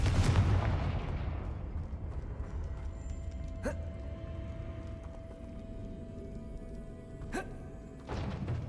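A Confringo blasting spell explodes in Hogwarts Legacy with a loud, booming burst at the start that fades out, followed by two sharp, cracking impacts and another surge of noise near the end.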